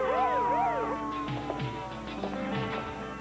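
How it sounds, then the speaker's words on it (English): An ambulance siren wails outside, its rising and falling tone clear at first and then fading into the background while people speak over it. "An ambulance?"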